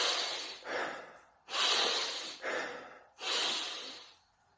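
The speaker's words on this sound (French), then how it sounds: "nous allons respirer par le nez profondément en essayant de remplir le plus possible les poumons" Slow, deep nasal breathing shown as a technique: three long airy inhalations through the nose, each a loud close hissing rush, separated by brief quieter pauses, with no talking.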